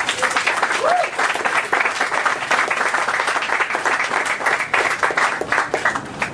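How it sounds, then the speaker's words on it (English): Crowd applause at the launch of the Rotary Youth Counseling Bus, steady many-handed clapping that holds at an even level throughout, with faint voices mixed in. "So I want to give the Rotary Club a round of applause for this."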